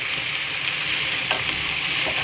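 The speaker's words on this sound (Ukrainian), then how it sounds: "закинула печіночку. Зараз з двох сторін просмажиться трохи зовсім" Chicken liver pieces fry in a pan for a liver pâté, giving a steady, close, dense sizzle with a brief stirring scrape partway through and no talking.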